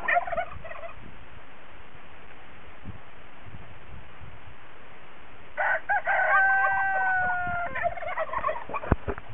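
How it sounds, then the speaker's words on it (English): A rooster crows loudly midway through at a farm with chickens and turkeys, followed by clucking and gobbling fowl, after a stretch of quiet outdoor background. "So we're looking at the goats and the chickens and the turkeys and the dogs."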